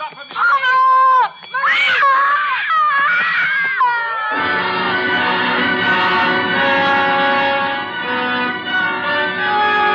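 A kitten meows as a radio drama sound effect: several sharp, rising mews in quick succession, then one long, loud, sustained wailing cry, close up and without talk.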